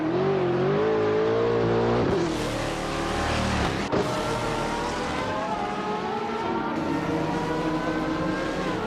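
Race car engines in a racing video game, a loud sustained whine of several cars revving and accelerating, pitch climbing and shifting as gears change.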